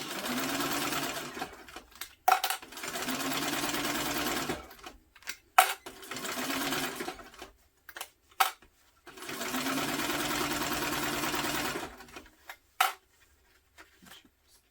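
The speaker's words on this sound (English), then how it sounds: "we're just going to sew straight across these, and then we'll top stitch" Sewing machine stitching straight across a tote bag seam, starting with a backstitch, running in three long steady bursts separated by short pauses and small clicks of the fabric being adjusted, close and fairly loud with no talking.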